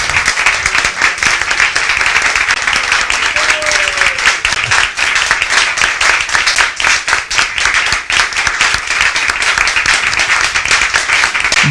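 An audience at a Srimad Bhagavatam lecture claps in sustained, dense applause for over ten seconds, loud and close throughout.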